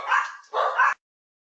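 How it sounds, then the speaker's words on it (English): Two small dogs let out short indoor barks and yips, two quick bursts close together that then break off into silence. "we have a couple of small dogs who like to join in from time to time"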